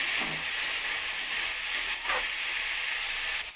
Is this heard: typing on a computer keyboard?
no